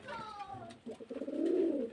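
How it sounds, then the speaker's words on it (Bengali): Giribaz pigeons from Murshidabad coo close by, a soft low throaty rolling coo swelling over a couple of seconds, with faint voices in the background. "খুব ভালো ভালো পায়রা আছে সব মুর্শিদাবাদের গিরিবাজ লাইনের পায়রা"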